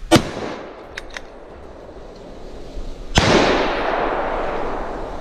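Rifle shots are fired at a passing troop of wild boar during a driven hunt. Two loud, sharp cracks ring out about three seconds apart, the second trailing into a long rolling echo, with no speech.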